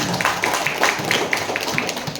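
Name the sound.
clapping hands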